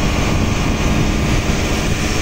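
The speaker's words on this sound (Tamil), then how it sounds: "இன்ஜின்" Steady, loud engine drone of a boat ambulance running at sea near Nainativu island, a continuous broadband roar with no talk.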